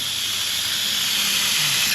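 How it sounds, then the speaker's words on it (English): A steady, loud hiss of a spray gun misting gelcoat, continuous for about two seconds before cutting off abruptly at the end. "Another little test spray."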